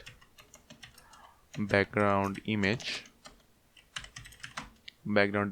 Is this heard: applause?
no